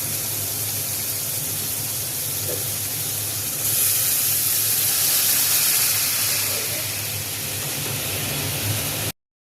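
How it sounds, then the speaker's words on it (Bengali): Bhola fish curry gravy with culantro bubbles in a pan after a splash of hot water, giving a steady hissing, sizzling boil that swells slightly midway and carries on with no talking. "ঝোলটা ফুটে উঠেছে"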